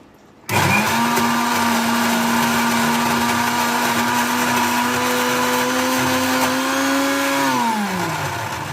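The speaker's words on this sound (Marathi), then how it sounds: "हे शेवटचं मिक्सर आहे म्हणून तुम्हाला मी दाखवते." A mixer grinder grinding lentils starts abruptly and runs at a steady, loud whine throughout, its pitch dipping slightly as it slows near the end.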